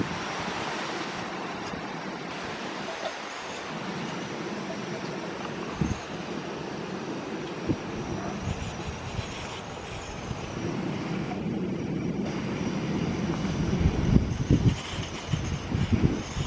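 Strong wind blows outdoors in a pine forest, a continuous buffeting rush against the microphone that gusts louder toward the end, with faint handling knocks and no clear talk.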